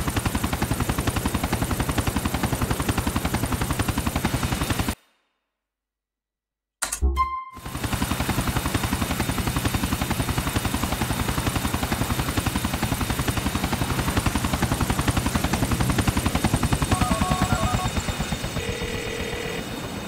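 Helicopter rotors and engine drone continuously in GTA IV, loud and steady, broken by a brief gap of silence, with faint electronic chimes near the end.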